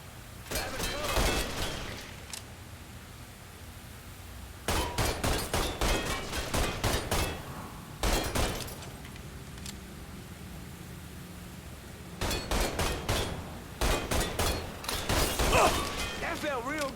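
Automatic gunfire in the crime video game Mafia III, arriving in several loud clusters of rapid shots separated by quieter gaps, with voices talking in between.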